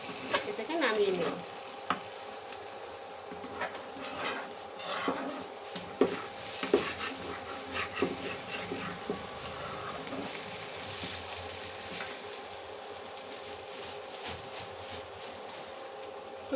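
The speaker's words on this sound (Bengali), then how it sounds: "এখন আলতো হাতে নেড়ে দিতে হবে। 1 মিনিট রান্না করে নিয়ে এটাকে নামিয়ে নেব।" A spoon gently stirring spicy eggplant curry as it fries in a pan, steady sizzling with scraping stirs, close and clear, no talking.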